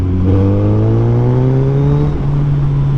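A 2024 Suzuki Hayabusa with a 1304cc engine and dual exhaust roars loudly as it pulls from low RPM in third gear. The pitch climbs steadily, then settles into a sustained drone.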